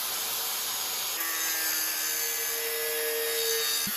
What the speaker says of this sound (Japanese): 排気口の内側のエッジの角を落として少しでも排気がスムーズになるように削っています。